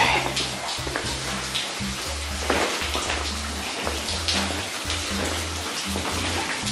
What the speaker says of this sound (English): Holy crap, it is raining here.